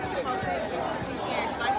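A downtown street crowd of protesters marching alongside police officers fills the air with dense, close overlapping chatter and indistinct voices that never let up.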